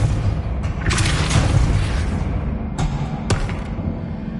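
A Depulso spell cast in Hogwarts Legacy on PS5 lands as a dull booming thump, followed by a couple of sharper bursts over a steady low game rumble.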